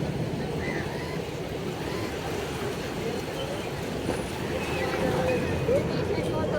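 Flood water overflows and rushes through a street during heavy rain, making a loud, steady broadband roar of flowing water that runs the whole time, with someone talking over it.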